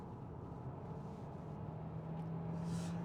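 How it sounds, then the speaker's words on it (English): A Hyundai Santa Fe plug-in hybrid's gruff, unrefined petrol engine pulls under acceleration: a steady, fairly quiet cabin drone whose low tone climbs gradually as the revs rise, with no voices. "One thing I'm not that impressed with is the sound of the petrol engine."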